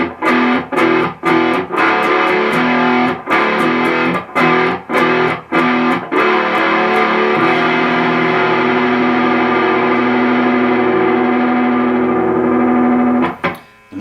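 Distorted electric guitar with effects playing a song ending: sharp choppy stabbed chords, then a dissonant chord held and sustained loudly before cutting off.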